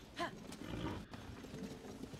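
A horse in the video game Zelda: Tears of the Kingdom, giving a short snort or whinny near the start, then soft clip-clop hoof sounds over a low, busy game background.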